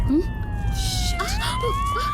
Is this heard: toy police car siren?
yes